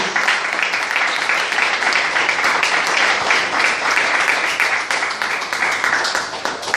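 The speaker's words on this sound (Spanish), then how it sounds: "Dale un fuerte aplauso a Jesús." A church congregation at a Spanish-language Christian sermon applauds loudly and steadily for Jesus, a dense, sustained wash of many hands clapping together for several seconds with faint voices mixed in.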